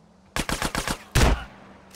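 Gunfire in GTA San Andreas Definitive Edition: a quick burst of about five evenly spaced shots, followed by one heavier, longer blast, loud and close.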